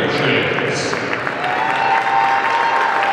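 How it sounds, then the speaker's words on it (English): An audience claps loudly and continuously at a hockey award ceremony, a dense, close wash of applause with a faint voice mixed in. "Let's give Mallory a big round of applause and congratulations."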